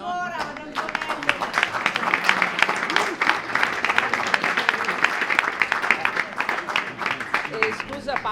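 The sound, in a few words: audience applause for Antonello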